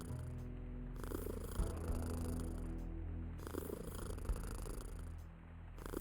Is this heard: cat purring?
yes